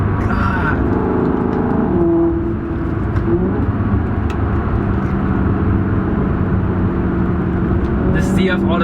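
Maserati GT engine accelerating on a mountain drive, heard from inside as a loud, sustained rising roar with a brief dip as it shifts, and a person talking over it.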